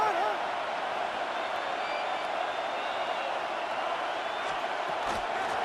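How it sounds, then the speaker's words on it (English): A stadium crowd in Madden NFL 26 roars in a sustained, even wash of cheering for a football game on third down, with a faint commentator-like voice drifting under the noise. "This crowd into it now as we get to 3rd down"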